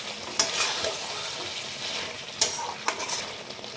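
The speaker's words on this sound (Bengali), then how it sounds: "এবার আমি অল্প করে নেড়ে নেব" Goat meat with garam masala and a pinch of sugar fries in oil in a pan, stirred with sharp utensil scrapes and clinks at irregular intervals over a continuous sizzle.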